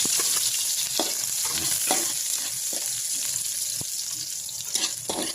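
Garlic and onion sautéing in a pan for Filipino beef kaldereta, a steady close sizzle with bright hiss and occasional stirring scrapes and clinks throughout, no voices.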